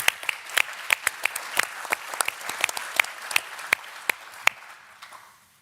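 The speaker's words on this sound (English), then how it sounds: "Give her a big hand of applause" An audience claps at a talk about constitutional reform, sharp individual claps in a modest, fairly close round that thins out and fades within six seconds.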